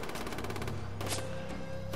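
Gunfire in the video game Far Cry 3, a dense, loud burst of rapid shots and crackling impacts running continuously for two seconds with no voices over it.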